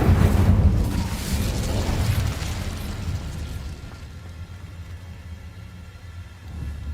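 Incendio fire spell cast in Hogwarts Legacy, a loud whooshing burst with low rumbling roar at the start that fades into a quieter crackling tail, with a fresh swell near the end.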